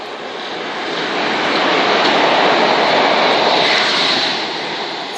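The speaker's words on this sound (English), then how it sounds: "the next train to pass by is going to be a full-car 377 to London Bridge from Horsham" A Class 377 electric multiple unit on the Brighton main line at Brockley, headed from Horsham to London Bridge, passes close by as a steady, loud broadband roar that swells in the middle and eases slightly toward the end.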